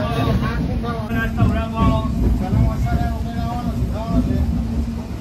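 A constant low rumble and rattle from inside a moving train runs throughout, with a person talking over it.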